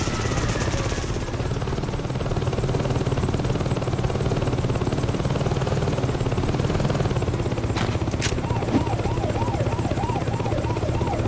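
In the video game Saints Row 2, a helicopter rotor produces a loud, continuous chopping drone throughout. Brief sharp bursts and a wavering tone cut through near the end.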